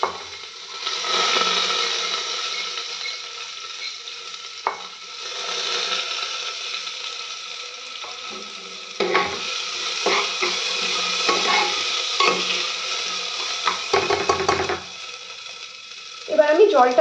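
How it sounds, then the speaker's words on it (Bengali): Dal goes into fried cumin in a pan for a home-cooked dinner and is stirred, producing a steady hissing sizzle broken by scraping and knocking clicks from the spoon against the pan. "এবার আমি ডালটা দিয়ে দেব।"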